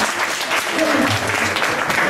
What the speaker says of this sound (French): Applaudissez-le aussi